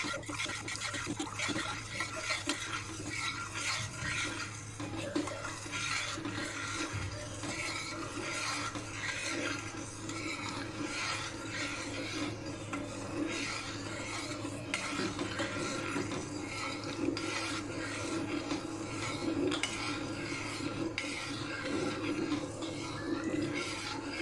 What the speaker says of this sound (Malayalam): കണ്ടിന്യൂസ് ഇളക്കണം